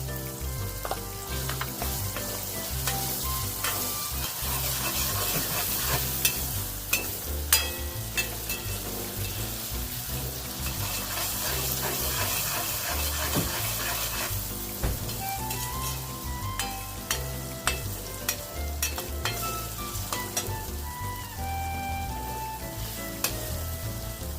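Tomatoes sautéing with salt in a pan for Kathiyawadi eggplant oro, a steady loud sizzle running throughout with frequent scraping stirs and occasional clinks of a spoon against the pan, no talking.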